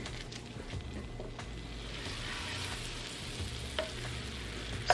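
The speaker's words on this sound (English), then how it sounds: "I'm gonna add that to the butter and let that cook for about a minute" Garlic cooking in butter in a pan gives a steady, soft sizzle and fry that runs continuously, with a faint stir or clink near the end.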